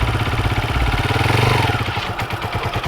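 A 125 cc motorcycle pulls away as a learner lets out the clutch, its engine a steady close throb that rises in revs, then a brief choppier patter toward the end, with no talk over it.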